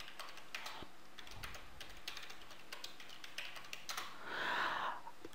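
A password being typed on a computer keyboard, with soft, irregular key clicks and taps close by in a quiet room.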